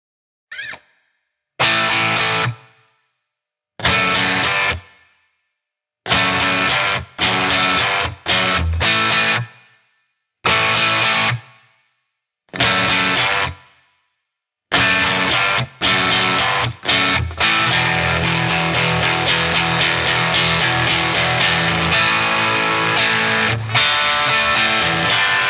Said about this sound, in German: Ich spiele über einen Fender Bassbreaker 15 Zoll und habe hier mein OS2-Pedal von Boss als Verzerrung.